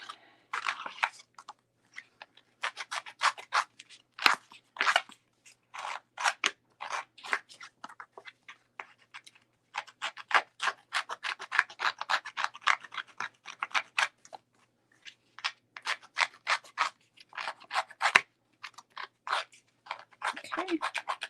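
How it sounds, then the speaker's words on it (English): Designer paper for a layered handmade card has its edges frayed, giving a steady run of short scratchy scraping strokes that come close and fairly loud, with brief pauses between bursts. "I am going to fray the actual designer paper, not the base, but the designer paper."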